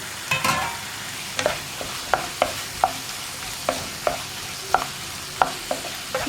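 Capsicum stir-fried in a pan for chilli paneer, with a steady low sizzle broken by regular sharp scrapes and taps of the spatula about every half second, close and alone.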